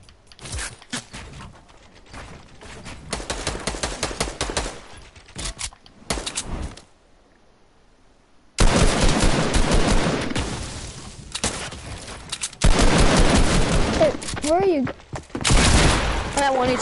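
Bursts of Fortnite gunfire crackle through the first stretch, then a louder second half brings dense rapid shots and game effects, with a voice talking over parts of it.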